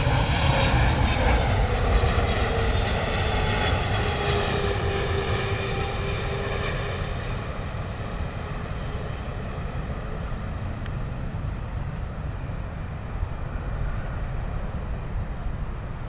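Loud jet roar from a Boeing 777 airliner landing at London Heathrow, with whining engine tones that slowly fall in pitch as the aircraft passes, then a sustained rumble fading gently.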